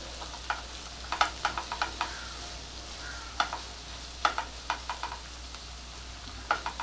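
Onion frying in a pan for a paneer and capsicum curry, with a soft steady sizzle broken by a string of sharp, irregular scrapes and clicks as a spoon stirs it, close and clear with no talk.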